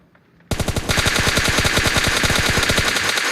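Automatic rifle fire in PUBG Mobile bursts in loudly after a quiet opening, a rapid, evenly spaced stream of close shots that continues without pause to the end.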